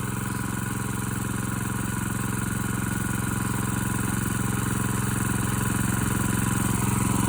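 An engine idling as it warms up before snow, a continuous steady rumbling putter with an even mechanical throb, close and unchanging throughout.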